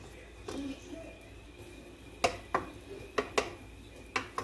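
Diced vegetables for a Puerto Rican sloppy joe being sautéed in a pan: faint background sizzle under a series of sharp clanks and scrapes of a utensil against cookware, roughly seven distinct knocks in the second half.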